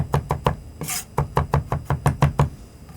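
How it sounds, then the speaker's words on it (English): A knife mincing a garlic clove on a cutting board makes a fast, steady series of about a dozen sharp, close thumps, with one brief scrape of the blade midway. "easy to mince so that your garlic clove isn't bouncing around on your cutting board"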